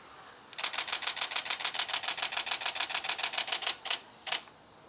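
A Canon 80D DSLR shutter fires in a fast continuous burst of about twenty crisp clicks at 7 frames per second, close up, followed by two single shots.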